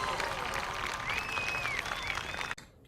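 A crowd applauds in a steady, dense patter with a thin whistling tone over it and faint voices underneath. The clapping cuts off abruptly near the end.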